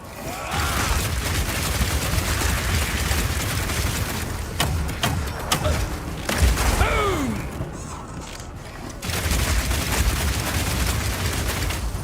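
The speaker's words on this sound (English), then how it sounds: "shoot out a bunch of grenades, and then start the fireworks with a Power Shot" Crossbow grenades and Power Shot explosions in the Path of Exile 2 video game, a dense barrage of rapid popping blasts and sharp bursts over a continuous roar, with a brief quieter lull before the firing resumes.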